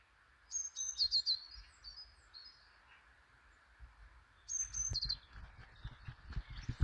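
Birds singing along a nature trail near old ironworks at Park Bridge, two bright bursts of chirping song separated by a quieter pause, over low rustling background and a soft thump midway.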